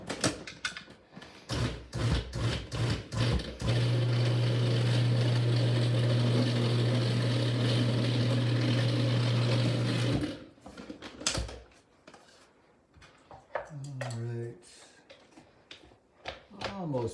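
A food processor pulses ingredients for tang yuan Lantern Festival dumplings, one long steady whirring run of about six seconds framed by clatter and speech before and after.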